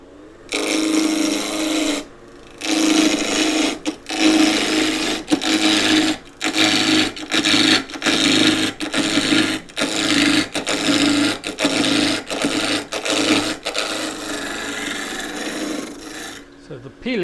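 A skew chisel peels silky oak (Grevillea robusta) spinning on a wood lathe, giving a loud raspy shearing hiss in about a dozen short bursts broken by brief pauses as the tool lifts and returns.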